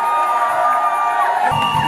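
Guests at a religious wedding in Paris cheering and shouting with joy, a bright crowd roar with whoops, swelling with a burst of louder low voices near the end.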